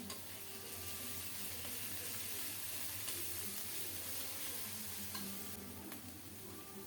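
Onion paste and salt sizzle in a pan and get stirred for an egg curry. A dense, even hiss of frying runs the whole time along with faint scraping and a low background hum, and nobody talks.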